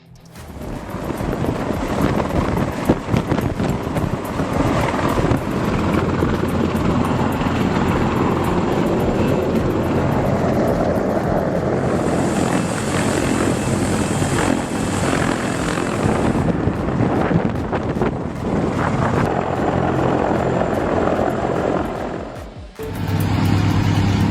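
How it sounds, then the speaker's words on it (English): A U.S. Marine CH-53 military helicopter doing external lifts in Arizona: a loud, sustained rotor and turbine roar with wind buffeting on the microphone, a high whine swelling midway and a sudden change at the very end. "U.S. Marines showing off with that CH-53 helicopter doing external lifts in Arizona."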